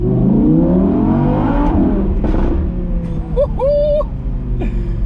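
An Audi R8 V10 Spyder engine roars loud and close, revving hard with rising and falling pitch as it downshifts, ending in a few quick blips.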